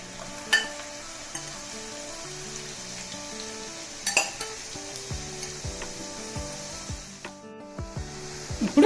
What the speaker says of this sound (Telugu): ఉడికించి చల్లారి పెట్టుకున్న ఈ బంగాళదుంప ముక్కల్ని ఈ ఆయిల్లో వేసుకొని దోరగా వేగనిద్దాం